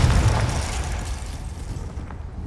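A Confringo spell explodes in Hogwarts Legacy: a heavy, booming blast with a deep low thump at the start. A rumbling roar follows and fades out over a couple of seconds.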